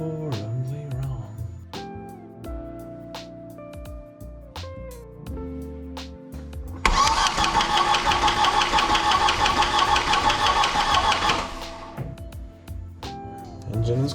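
A cold 1.8T car engine cranks and catches about midway, then runs loudly and roughly for several seconds before dropping back, with clicks and mechanical knocks before and after.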